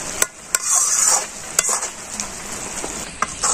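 Kalia curry frying and being stirred in a pan over a village cooking fire, a steady close sizzle broken by sharp scraping clicks of the spoon against the pan.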